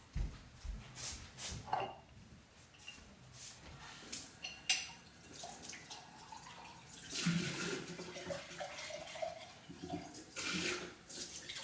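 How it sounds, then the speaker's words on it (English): Running tap water splashes into and rinses a water jar, with irregular rushing and sloshing bursts alongside light clinks of glass over a steady faucet flow, heard close in a household setting. "Let me rinse out my my water jar in case anyone else wants to fizz."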